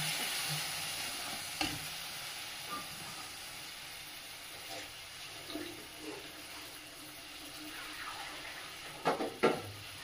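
Spice paste stir-fries in a pan before fish is added, a soft continuous sizzle and hiss with occasional scraping stirs and a few sharper knocks near the end, fairly quiet with no talking.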